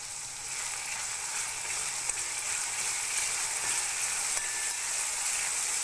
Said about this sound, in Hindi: हमने हाथ से क्रश करके 1 टेबल स्पून कसूरी मेथी डालेंगे।